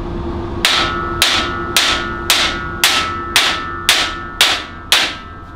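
Nine loud, sharp hammer strikes on a steel blade, evenly spaced about half a second apart, each followed by a brief metallic ring.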